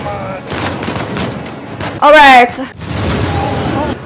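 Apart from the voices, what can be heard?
explosion and gunfire in Uncharted video game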